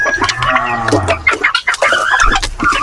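A farm turkey calls out loudly and close by, with a couple of harsh, wavering gobble-like cries over faint background sound.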